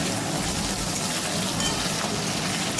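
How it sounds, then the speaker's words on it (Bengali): Onion and tomato fry in oil for chicken curry, making a dense, even, close sizzle like steady rain that holds constant throughout with no talk. "তারপরে আমরা পেঁয়াজ ও টমেটোটাকে ভেজে নেব।"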